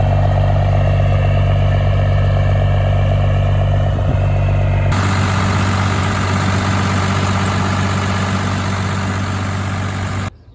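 A 12 valve diesel engine idles in a K30 crew cab truck with a new fuel pin, a loud, steady low rumble that changes character midway and then runs on evenly until it cuts off abruptly.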